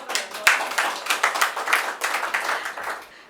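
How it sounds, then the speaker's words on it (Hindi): An audience claps at a Hindi poetry reading, a quick, loose burst of hands close by that rises in rhythmic waves and then fades out over about three seconds. "अगर आप तालियां बजाएं तो"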